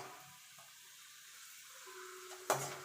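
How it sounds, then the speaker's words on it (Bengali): Peanuts fry quietly in oil for a Bengali vegetable chop recipe, a faint low sizzle close by, ending in a sudden sharp clatter of a utensil against the pan. "বাদামটা ভেজে তুলে নেব।"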